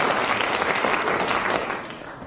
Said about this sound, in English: One round of applause for Barry Cryer, who won that point